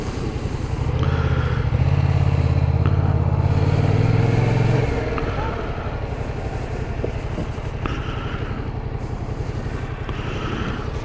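Yamaha MT-07 motorcycle on a road ride, a steady close engine drone with rider wind noise, slightly louder and higher for the first few seconds before settling to an even cruise.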